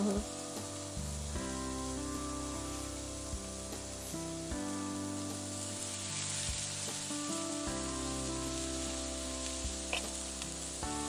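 Bhaja pithe dumplings frying in shallow hot oil, a continuous close sizzle with a faint musical tone running underneath throughout.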